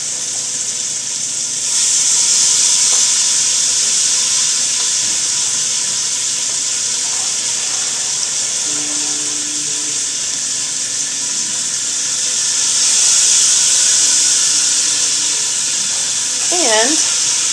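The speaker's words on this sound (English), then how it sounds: "I'm going to sear each side a couple minutes" Oxtails sear in a hot pan with a steady, bright hiss that swells louder near the start and again later, with a few faint background clinks and no clear talking.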